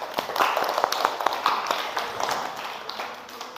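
A school classroom applauding at the end of a lesson, a brief patter of clapping hands, fairly close and moderately loud, fading toward the end.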